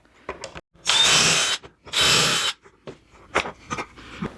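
Power drill boring pocket holes with a Kreg jig into a 21.5-inch wooden patio bench leg: two short, loud, whining bursts, with clicks and clunks of handling around them.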